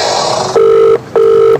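A phone call is being placed for a prank: after a brief burst of noise, two loud, steady electronic ringing tones sound close, separated by a short pause, with no talking.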